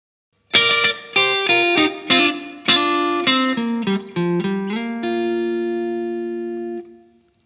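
Electric guitar plays a quick fill lick of plucked notes and double stops, ending on a held ringing note that fades out.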